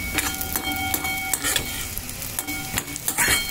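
Stirring and sautéing Karthigai pori in a pan on the stove, with a soft continuous sizzle and scattered scraping, clicking stir strokes close by, no talking.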